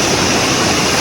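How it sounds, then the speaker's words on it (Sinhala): Water from a waterfall stream at Garadi Ella in Kalugala, Sri Lanka rushes in a loud, close, unbroken roar over a brief moment. "මේ තමයි මේ අපිට ළඟට හම්බ වෙන පළවෙනි වතුර පාර"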